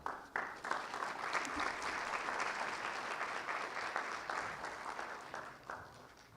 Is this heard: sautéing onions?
no